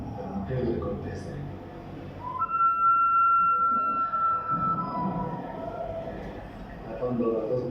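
A second anthropomorphic pre-Columbian whistling ceramic bottle answers with a sustained, clear whistle tone held for about two seconds, rising slightly, over a background of ambient murmur and voices.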